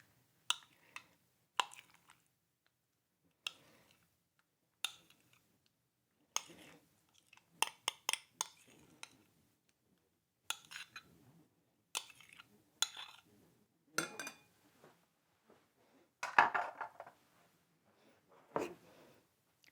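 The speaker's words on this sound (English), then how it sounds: "you mix up your topping, and that is 1 cup of sour cream" A sour cream and mayonnaise topping is mixed in a bowl, with scattered wet plops and spoon clinks and scrapes against the dish, close and intermittent with quiet pauses between strokes.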